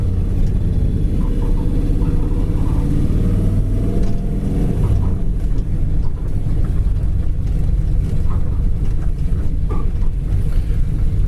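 A 1970 Chevy Chevelle Super Sport V8 with a rattling rear exhaust runs loudly nearby, a deep, steady rumbling idle with a few small swells in revs across the whole stretch, no voices over it.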